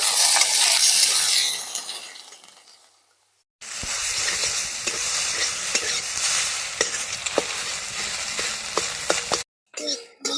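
Loud sizzling of egg frying in a pan with scraping stirs, a brief quiet gap midway, then steady frying with sharp utensil clicks.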